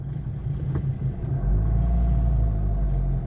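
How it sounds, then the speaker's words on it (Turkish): A motorcycle pulls away on light throttle along a licence-test route, its low engine rumble rising steadily and held at a moderate distance, with no talk. "motoru ilk hareketini verirken yani kaldırırken gazla da besliyor"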